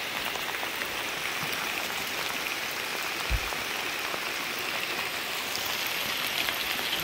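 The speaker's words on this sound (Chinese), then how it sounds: "这水河水现在很漂亮，可是可惜这样一下大雨" Heavy rain pours onto a river during a fishing trip, a dense, even hiss of drops striking water and surfaces, steady and loud with no talk over it.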